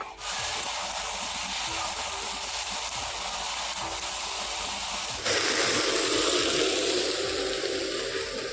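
Luchi puris fry in hot oil in a pan on a gas stove, giving a steady, close, loud sizzle that jumps brighter and stronger partway through as fresh dough goes in.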